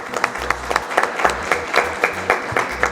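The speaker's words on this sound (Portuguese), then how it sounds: "Uma salva de palmas para a minha família." A crowd at a book launch claps loudly and fairly close. The applause is dense, with regular pulsing accents and a low, beat-like tone underneath, and there are no voices.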